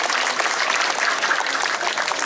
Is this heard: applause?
yes